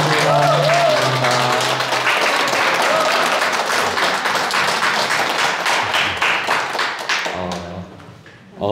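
Sustained applause from an audience at a graduation-exam presentation fills nearly the whole stretch, dense and steady, with a voice speaking over the start before the clapping tapers off at the end.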